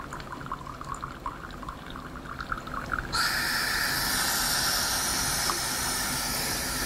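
A cement filter press pressurised to 100 psi in a lab test, giving a sudden loud, steady hiss of water and air forced out that starts partway through and holds constant to the end.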